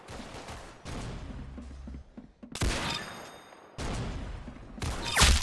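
Video-game gunfire in Roblox Arsenal comes in several loud bursts of rapid shots separated by short pauses, with bright metallic crackles and sharp impacts, heard without talking.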